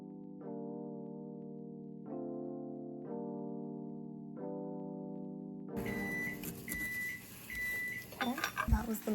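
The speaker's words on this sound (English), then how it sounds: "That was the microwave." A kitchen microwave oven gives four short electronic beeps at regular intervals as it finishes, followed by clattering dishes and utensils nearby.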